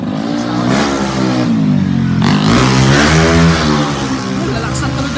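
A motorcycle passes close on a street, its engine note rising and falling as it revs by, loud and up front, with a voice talking underneath.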